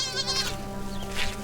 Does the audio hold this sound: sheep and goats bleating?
yes